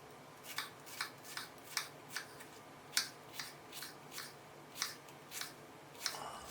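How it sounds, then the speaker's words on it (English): A knife chops half a yellow onion finely on a cutting board, about a dozen quick, crisp, evenly spaced cuts at close range, fairly quiet and with no talking. "So first I'm going to chop half a yellow onion and cut the onion to very fine pieces."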